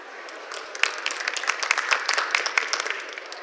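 An audience at a 2017 NPA business presentation claps steadily for a few seconds, a dense, even round of applause with no voices over it.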